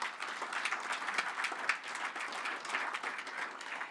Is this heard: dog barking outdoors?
no